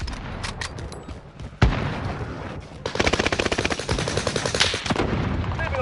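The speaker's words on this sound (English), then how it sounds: "Enemy hostile fire." Rapid bursts of enemy gunfire from the Warzone first-person shooter, with a heavy single shot followed by sustained fast automatic fire and booming reports, loud and close with no talking.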